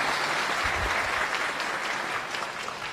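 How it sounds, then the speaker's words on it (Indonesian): A crowd at a religious lecture gathering in Jombang, East Java, claps continuously in dense, even applause, with a faint low thump early on and no break over a few seconds. "Kita sambut dengan tepuk tangan untuk Buya Yahya."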